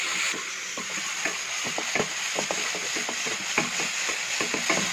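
Tomatoes cook down in a pan for mutton liver pepper fry, a steady close sizzle broken by soft stirring taps and small pops.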